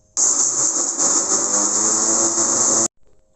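An electric blender grinds spice-paste ingredients with a loud, steady high whir. It starts abruptly, runs for nearly three seconds, then stops dead.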